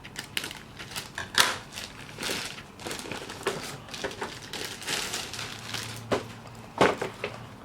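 Packaging is unwrapped from a boxed Kotobukiya 1/7 scale Hestia figure, with steady crinkling and rustling of wrap near the mic and a few sharp crackles and taps, and no talking.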